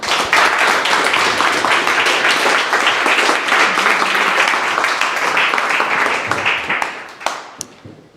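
Dense applause fills the room for the first startup pitcher at The Pitch 2023 in Edinburgh, loud and sustained before thinning to a few scattered claps at the end.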